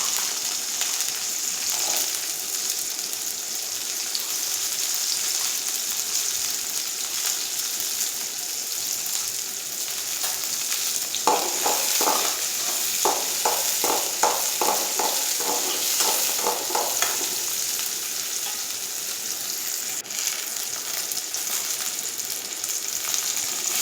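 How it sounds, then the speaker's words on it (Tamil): Shallots, garlic and curry leaves fry in hot oil with a steady, loud, close sizzle; a quick run of rhythmic stirring scrapes rises midway, then the hiss carries on alone with no talk. "அதே பாத்திரத்தில் எண்ணெய் ஊற்றி சின்ன வெங்காயம், பூண்டு, கறிவேப்பிலை போட்டு நல்லா வதக்கிக்கணும்"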